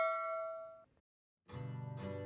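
A notification bell sound effect rings out as a clear chime that fades away, followed after a short silence by a brighter, rapidly jingling bell tone.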